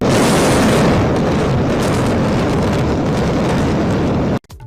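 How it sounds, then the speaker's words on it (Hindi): A massive, sustained roar of blasts and rumbling debris from the explosive demolition of twin tower buildings in India, loud and continuous for several seconds before cutting off abruptly into near silence. "जबरदस्त धमाका आपने देखा अभी"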